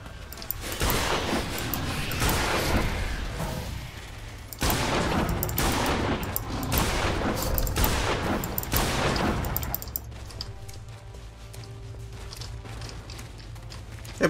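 Rapid automatic gunfire in the Primal Carnage video game, loud, dense bursts of shots fired almost continuously for about ten seconds before dropping away into quieter game ambience.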